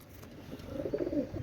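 Pigeons in a loft, two males and a female, cooing close by in soft, throaty, rolling calls that swell over a second and a half with no talk.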